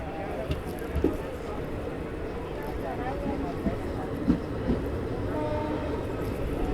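Distant horn of the Vikarabad–Guntur Palnadu Superfast Express sounding over the steady rumble of the stationary train before departure, with brief knocks and clanks and faint voices in the background.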